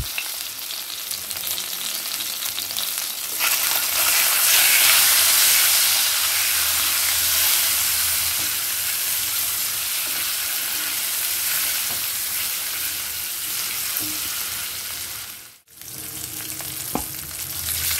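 Eggs frying in a pan with turmeric powder, a steady loud sizzle with scraping stirs, dipping briefly near the end; no voices.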